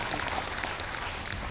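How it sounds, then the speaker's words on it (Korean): Audience applause in a Korean company presentation hall, honoring the interior designer of a new center, a dense, steady wash of many hands clapping that continues evenly throughout. "감사의 큰 박수 부탁드립니다"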